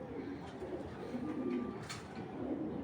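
Rare Chinese pigeons in a loft coo in low, soft murmurs, close and continuous under a faint background hum, with a brief sharper call near the end.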